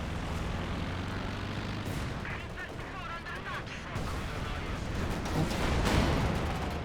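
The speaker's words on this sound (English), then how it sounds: "There's a lot of aircraft flying about." Aircraft drone overhead amid artillery and gunfire in a Company of Heroes 2 battle, a continuous loud rumble with scattered blasts, under intermittent talk.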